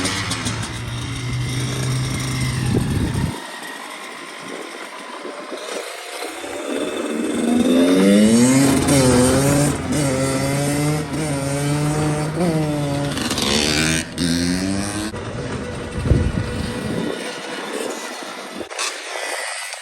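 Kawasaki KX100 and KX85 two-stroke dirt bikes ride around the block, engines buzzing and revving up and down in repeated rising sweeps, fading and returning, with occasional sharp bursts.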